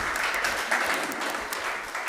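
An audience claps steadily at an ordination ceremony, a dense, continuous patter of many hands at a close, even level from start to finish.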